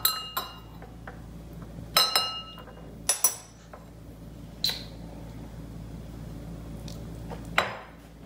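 A spoon stirs drink mix into a glass of plain water, sending several bright clinks and taps against the glass at irregular intervals, close and fairly quiet, with little else audible.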